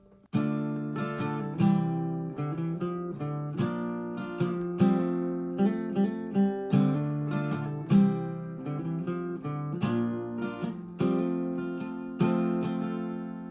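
An acoustic guitar plays a short melodic passage of picked notes with quick hammer-ons, steady rhythm, clear and close, with no voices.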